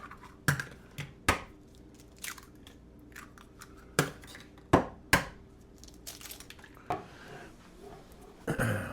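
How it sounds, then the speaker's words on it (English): Eggs cracked one-handed against a hard edge near a kitchen sink: several sharp, separate knocks and cracks spread through the stretch, close and crisp, with faint clicks and a low hum between them and no talking. "We'll come over here to break our eggs. I like to do it near a sink. One-handed."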